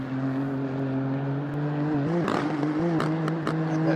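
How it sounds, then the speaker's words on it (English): Race car at Daytona with a suspected gearbox problem, its engine droning steadily at a low pitch with a couple of brief revs and rough stutters, heard from a distance and alone. "that does not sound a very healthy car at all"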